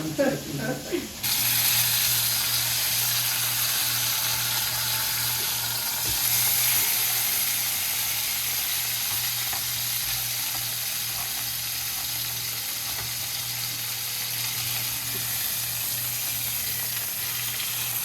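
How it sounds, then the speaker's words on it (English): A boneless stuffed pork loin is stood on its end to sear, and after a second of brief handling bumps a loud, steady sizzle fills the rest of the clip, close and unbroken. "Somebody told me not to forget to sear the end, so I have to like stand it."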